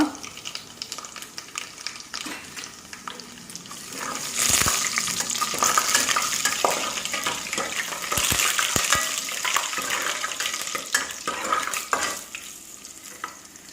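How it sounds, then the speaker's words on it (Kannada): Garlic frying in hot oil after mustard seeds have spluttered, a steady close sizzle with scraping stirring and occasional sharp crackles and pops, growing louder midway, no talking. "ಬೆಳ್ಳುಳ್ಳಿ ಚೆನ್ನಾಗಿ ಕೆಂಪಗೆ ಕಾಯಬೇಕು."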